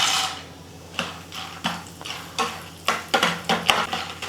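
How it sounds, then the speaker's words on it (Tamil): Turkey berries (sundakkai) frying in a pan, a soft steady sizzle broken by repeated scraping stirs that come in a loose rhythm of roughly one or two per second, close and moderately loud with no talking. "இப்போ சுண்டக்காய் வறுத்துக்கலாம்"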